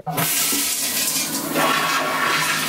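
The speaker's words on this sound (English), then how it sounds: "Is that not the loudest, most aggressive flush you've ever seen?" A very loud, forceful toilet flush in an apartment bathroom roars up abruptly and rushes continuously at full strength, close to the microphone, with no voices.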